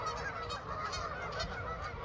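A flock of geese honking in an open field, a dense continuous chorus of overlapping honks, steady and moderately distant, with no talking.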